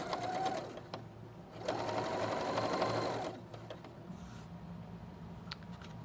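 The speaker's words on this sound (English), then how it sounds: "And you're going to just stitch right here." A sewing machine stitches a cooling wrap in short close runs, its rapid mechanical whir starting and stopping, with quiet handling noises between the runs.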